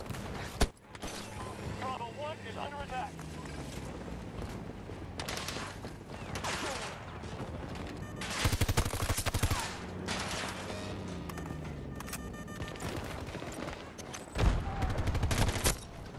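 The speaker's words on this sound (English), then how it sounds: "Wow, sentry gun" A sentry gun in the shooter game Battlefield 2042 lets off rapid, dense automatic bursts amid steady combat noise and mechanical clatter, the firing swelling in loud stretches as players talk over it.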